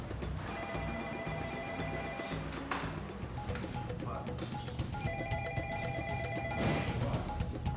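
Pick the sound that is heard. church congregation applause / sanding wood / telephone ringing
telephone ringing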